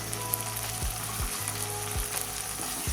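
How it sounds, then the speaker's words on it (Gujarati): Chopped tomato hits a hot pan of oil for Gujarati vagharelo rotlo, setting off a steady close sizzle with a few soft spoon scrapes and stirring knocks. "એક નંગ ટામેટું સુધારેલું છે તેને એડ કરીશું"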